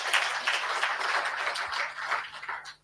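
An audience at a Pan-African green climate conference claps in a dense, continuous round of applause lasting about three seconds before it quickly dies away.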